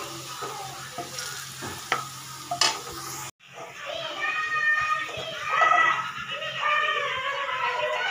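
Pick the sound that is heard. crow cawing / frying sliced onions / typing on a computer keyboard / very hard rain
frying sliced onions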